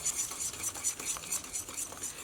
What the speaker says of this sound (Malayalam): ഇതിലേക്ക് ഒരു മുട്ട ചേർക്കുക. ഇത് രണ്ടും കൂടിയിട്ട് നമുക്ക് നന്നായിട്ട് മിക്സ് ചെയ്യുക.